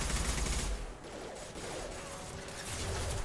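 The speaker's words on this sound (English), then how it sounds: "Firing concussive shot." A concussive shot weapon fires in the sci-fi shooter Mass Effect 2, a dense burst of blasts and crashes over a dull mechanical rumble, loud and close, with no talking.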